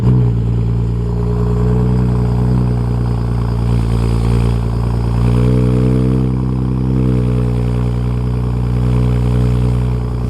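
A BMW 335i (E90/E92) fitted with a modified M Performance exhaust, a loud, deep, steady engine drone close by with slight rises in revs, without talk.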